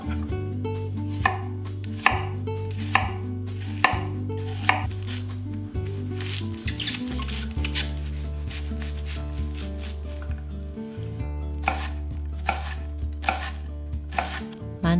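A kitchen knife mincing a small onion on a cutting board, rapid regular chopping taps in quick succession, close and crisp with occasional louder knocks, no speech.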